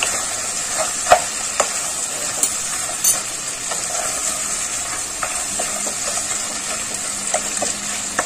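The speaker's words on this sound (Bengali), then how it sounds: "তারপর আমি ক্র্যাবগুলোকে একটু নাড়াচাড়া করে একটু ভাজতে দেবো।" Crabs fry in a pan with a constant bright sizzle, broken by occasional scraping clicks as a utensil stirs them, close up and without talk.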